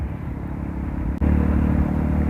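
A Rusi Korak motorcycle engine drones steadily while riding toward a hanging bridge in Agno, Pangasinan, a loud close low rumble with a brief dip before the engine note rises slightly and continues.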